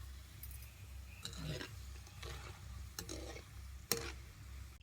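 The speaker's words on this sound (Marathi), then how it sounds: "बारकी बारकी भजी सोडून घ्यायची" Small bhaji fritters frying in oil over a low flame on a wood-fired chulha, a soft steady sizzle with occasional sharp clinks and stirring scrapes of a utensil, close up.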